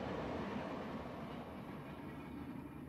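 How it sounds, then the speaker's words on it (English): A StarCraft 2 train pulling out of its station, a steady rumbling rail roar with a faint clatter that holds evenly for the whole stretch, with no talk. "One of the trains is leaving its station now."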